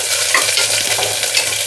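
Ginger pieces, cumin and dried red chillies fry in hot ghee for vegetable khichdi and are stirred in a pan, giving a close, continuous sizzle with scraping stirs.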